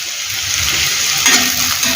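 Onions frying with potato pieces in a heavy pan, a steady loud sizzle with scraping stir strokes near the end, no talk.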